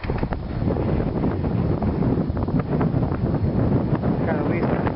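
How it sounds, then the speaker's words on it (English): Strong wind on a mountain slope in Lassen Volcanic National Park buffets the microphone in loud, continuous rumbling gusts, with a voice faintly present beneath the roar. "It's very windy up here actually."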